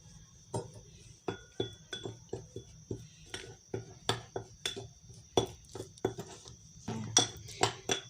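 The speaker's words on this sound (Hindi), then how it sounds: "ये आपने नींबू का रस डाल के इसको अच्छी तरह से मिक्स करना है ताकि ये पेस्ट बन जाए" A utensil clinks against a glass or ceramic bowl in a steady series of light, close taps while a lemon juice hair paste is stirred and mixed, faint and without talk.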